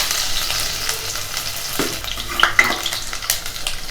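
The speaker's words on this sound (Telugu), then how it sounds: "ఇలాచి, బ్లాక్ కార్డమన్, హోల్ గరం మసాలా మొత్తం దీంట్లో యాడ్ చేసుకొని ఒక 2 మినిట్స్ ఫ్రై చేసుకోవాలి." Whole garam masala spices with cardamom and black cardamom, plus chopped garlic, frying and sizzling in a pan for a dhaba-style mutton curry, a steady close crackle with stirring scrapes and small clinks.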